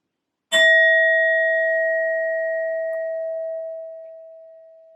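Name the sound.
sound bowl chiming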